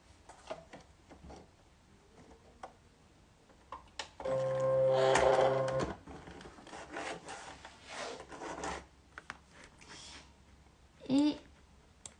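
A Silhouette cutting machine draws in a cutting mat, giving a loud mechanical whirr with rising tones for about two seconds, set among quieter handling noises and a brief click near the end.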